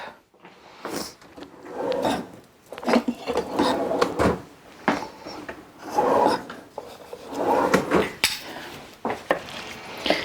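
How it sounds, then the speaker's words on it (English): Beef and noodles stirred in a pot, with steady scraping and rasping of a utensil against the metal in repeated strokes, close and fairly loud. "let me stir this up"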